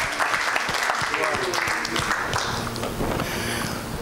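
Church congregation clapping during a Saturday worship service, a steady dense wash of applause running throughout with voices speaking over it.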